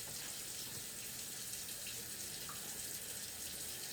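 Water pours steadily into a goulash pan, a continuous soft gushing rush that stays even and fairly quiet throughout, with no voices.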